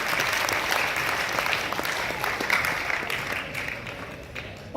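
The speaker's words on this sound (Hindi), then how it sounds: "जोरदार तालियां" A large audience applauds loudly at a theatre event honoring a well-known stage actor. The clapping is dense and continuous from start to finish.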